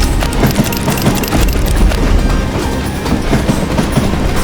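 A train rolls on rails in the Western shooter game Call of Juarez Gunslinger, a loud, continuous rumble with rhythmic clickety-clack of wheels and metallic rattling throughout.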